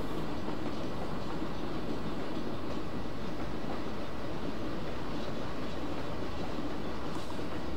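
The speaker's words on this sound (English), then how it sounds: "The train's already a little faster than I wanted it to go." A train rolls on rails in the simulator Trainz, a dense, continuous rumble of wheels and track noise that stays loud and steady throughout without speech.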